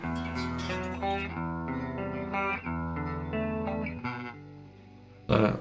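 Clean electric guitar tone in the Rocksmith+ game, played as a run of sustained, ringing chords and single notes, loud and alone, with a sharper strummed attack at the very end.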